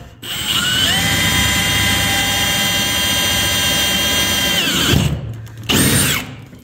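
A power drill with a 9/32 bit boring into trailer decking, a loud steady whine that runs for about five seconds, winds down, then gives one short final burst.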